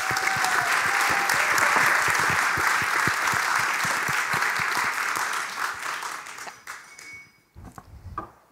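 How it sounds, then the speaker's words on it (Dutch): Audience applause at a meetup gathering, dense sustained clapping from a large crowd that gradually thins out and fades to a few scattered claps near the end. "Geef haar een warm applaus."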